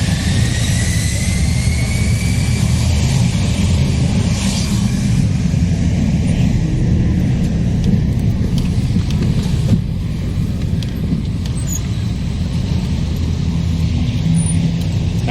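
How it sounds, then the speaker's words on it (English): A loud, continuous roar of a jet engine dominates throughout, heavy and rumbling with a steady high whine, like an airplane powering up close by, taking off at Maho Beach, St Maarten. "Now the airplane just took off"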